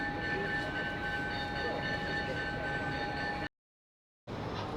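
Sound-fitted 00 gauge model locomotives run on a DCC-controlled exhibition layout (Gaugemaster Prodigy) at Model Rail Scotland 2024, giving a steady close rumble with sustained tonal whine, cut by a brief silent gap near the end.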